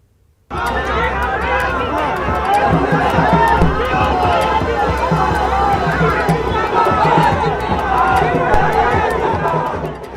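A large crowd packing the streets of Patna at a BJP road show, a dense, steady babble of many voices and cheering, loud and close throughout with constant chatter.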